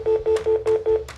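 Cell phone keypad dialing tones, a run of five short, evenly spaced beeps with steady pitch, clear and close, followed by a brief softer tone at the end.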